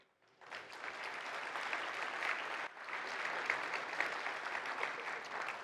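Keynote audience at the POST/CON 25 conference claps for the award winners, applause swelling in after a brief quiet start and holding steady and broad to the end, fairly distant.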